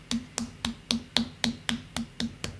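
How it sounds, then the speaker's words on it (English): About ten sharp, evenly spaced hand claps or snaps, at a steady moderate rhythm in a quiet room with no talking. "Claps for Jojo, everyone."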